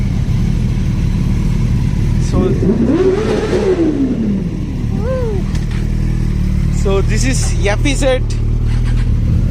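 A Yamaha FZ1 motorcycle fitted with an aftermarket exhaust revs loudly up close, with a long rising and falling throttle sweep followed by shorter sharp blips over a rumbling idle. Someone speaks briefly over it.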